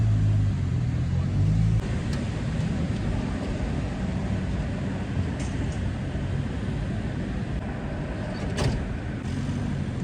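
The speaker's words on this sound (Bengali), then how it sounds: "বাস ওই তো চলে এসছে" A school bus arrives on a street, its engine rumbling low and continuous nearby with a steady road hum. A brief louder vehicle sound comes near the end.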